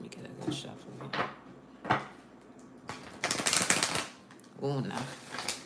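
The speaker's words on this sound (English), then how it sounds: "me get a good shuffle here." A deck of playing cards is shuffled in several quick riffling bursts with pauses between them, close by, with a voice speaking briefly.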